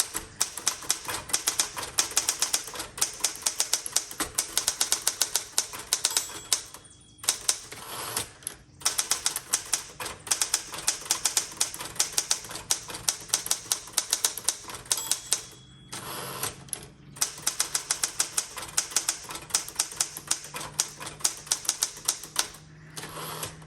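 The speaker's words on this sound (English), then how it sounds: "Okay, amazing typewriter. No issues in performance." A 1967 Classic 12 manual typewriter, repainted red, is typed on up close in a steady run of sharp key strikes with brief pauses and occasional carriage or bell sounds, without talk.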